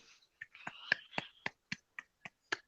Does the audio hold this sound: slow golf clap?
yes